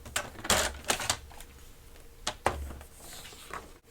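Cardstock is sliced on a paper trimmer, with a few sharp slides and clacks of the blade arm in close, quiet surroundings and no talking.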